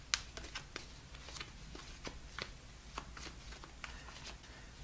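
Tarot cards being shuffled by hand, a soft run of irregular papery flicks and riffles, close but quiet, with no voices.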